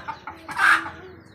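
A chicken gives a short, fairly close cluck amid a few quieter clucks and rustles as the hens go into their coop.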